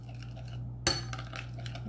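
A spoon clinks once against a bowl while mixing chia seeds into liquid yogurt, a single sharp near tap followed by faint scraping over a steady low hum.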